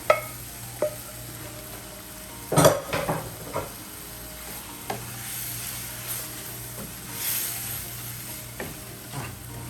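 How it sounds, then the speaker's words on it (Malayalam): Chicken gizzard pieces, drained of their water, are dropped into a pan for a dry fry: a few sharp metallic clanks and a clatter of utensils, then a faint sizzle with occasional light knocks. "ഞാനിപ്പോൾ അത് വെള്ളം മൊത്തം ഡ്രെയിൻ ചെയ്ത് കളഞ്ഞിട്ട് കഷ്ണം മാത്രം അങ്ങോട്ട് ഇട്ട് കൊടുക്കുവാണ്"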